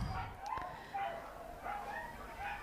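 A Border Collie on an agility course at an international agility festival gives short yips and excited barks, several quick calls at moderate distance over crowd and arena background.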